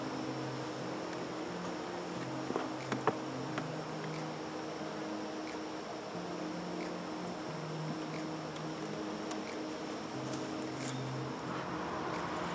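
A honeybee colony hums steadily after a cut-out, a continuous, moderately faint buzz with a few brief louder passes of individual bees near the hive, and no talking.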